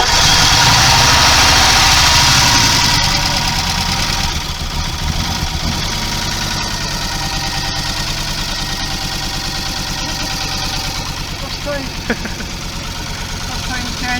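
An Audi Coupe 2.2E five-cylinder, started after ten years sitting in a barn, runs loudly nearby, settling from a high rev into a steady, slightly rough idle with a constant mechanical drone.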